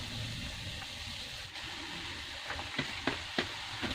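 Sliced bitter gourd (ampalaya) hits a hot pan of sautéed aromatics, giving a steady, close sizzle with a few sharp crackles and stirring clatters near the end.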